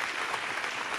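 Applause at an awards gala in Stary Maneż, Gdańsk: a hall full of people clapping in a continuous, even wash, no talking on top.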